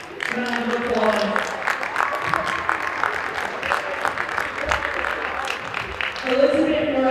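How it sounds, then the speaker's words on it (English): A gym crowd at a high school girls' basketball senior night against Malden applauds the seniors with a steady patter of clapping, while voices carry over the top throughout. "Round of applause."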